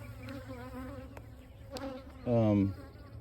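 Honeybees swarm and buzz around an open hive after a piece of burr comb is removed, making a steady droning hum with one bee passing loud and close near the mic for a moment.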